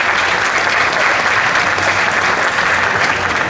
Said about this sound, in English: If we can give them all a round of applause as well, too.